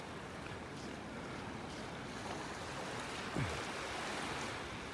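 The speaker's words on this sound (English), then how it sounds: "Big pounding waves." Big waves pound a North Naples, Florida beach at extreme high tide, heard as a steady, fairly faint roar of surf with no break and one brief louder thump.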